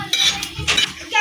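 A utensil scrapes and clinks against a pan as garlic and peanuts are stirred and roasted in oil, a few quick close metallic strokes.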